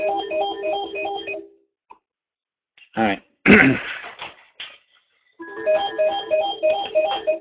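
A desk telephone rings with an automated call from a bond market floor, sounding a bright repeating electronic ring pattern in two bursts. Between them there is a cough, a short spoken remark and a few noises.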